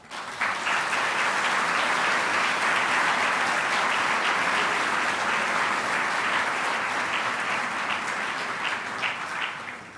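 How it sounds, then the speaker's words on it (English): A graduation ceremony audience breaks into sustained applause, a dense wash of clapping from a large crowd that swells quickly and holds steady for the full stretch before tapering slightly at the end. "I invite them to indicate their appreciation of you with a round of applause"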